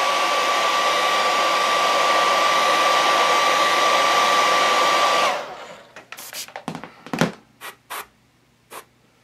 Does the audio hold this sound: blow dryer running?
yes